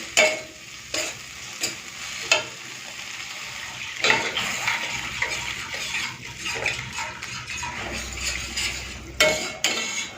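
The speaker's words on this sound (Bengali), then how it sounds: "সব কিছু দিয়ে দিয়েছি, একটুখানি নেড়ে চেড়ে মিশিয়ে দিয়ে তারপরে আমি দিয়ে দেবো জল।" Mixed vegetables with fennel seeds being stirred and fried in a pan for a five-vegetable curry with shrimp: a continuous sizzle broken by repeated clattering scrapes of a utensil against the pan, some sharp and loud, others softer, with no talk.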